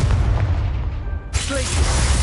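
A Confringo blast spell bursts in the video game Hogwarts Legacy, a loud booming explosion with a bright crackling burst after an opening rumble.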